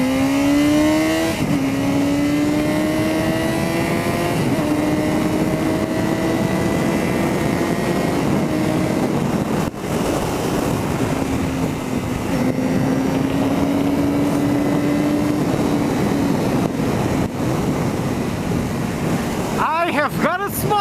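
A Yamaha XJ6 Diversion motorcycle engine pulls away, revving up through the gears with rising and falling pitch, loud and close over steady wind noise, ending with a brief burst of clatter.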